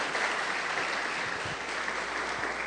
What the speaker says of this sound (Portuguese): E dê uma forte salva de palmas para o Senhor Jesus.